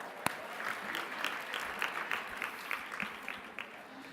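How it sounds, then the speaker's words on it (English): An audience at a Capitol Hill Day lunch event claps in steady, moderately distant applause with scattered sharper claps standing out, continuing for several seconds without speech. "let's have a round of applause for that"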